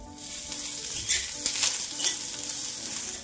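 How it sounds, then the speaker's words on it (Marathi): Chopped onion fries in a little oil in a pan for a Maharashtrian masvadi and rassa. A steady close sizzle carries light stirring scrapes throughout, with no talking. "आपल्याला आता इथं कांदा परतून घ्यायचा आहे। कांद्याला आपल्याला अर्धा चमचा भरून इथं तेल टाकायचं आहे"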